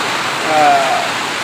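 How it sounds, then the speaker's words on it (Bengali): Heavy rain falling outdoors in Naria, Shariatpur, with a steady, dense broadband wash from start to finish and a faint whistle-like tone briefly on top. "আজকে আধা ঘন্টা দশ পনেরো মিনিট হলো প্রচুর বৃষ্টি কিন্তু শুরু হয়েছে"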